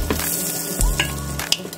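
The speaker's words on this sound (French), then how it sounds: "Dans votre casserole, vous mettez une noisette de beurre comme ceci ou alors un peu d'huile." Butter sizzles and fries in a saucepan while a utensil stirs it, a steady close crackle with a few light scraping clinks over the short span.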